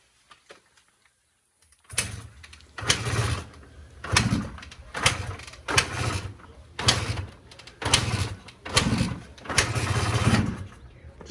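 An old, twenty-year-old dirt bike engine that has sat unused for years catches on choke after a silent start, firing in a series of about eight loud revving bursts with brief dips between, close by and with no talk.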